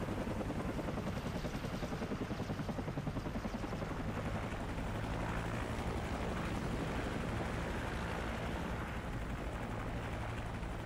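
Helicopter in the Modern Warfare video game: a loud, continuous rotor throb with rapid blade chop that holds steady throughout, with no other sounds standing out and no talk.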